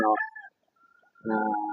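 A breeder rooster gives two short, loud calls separated by a brief quiet gap.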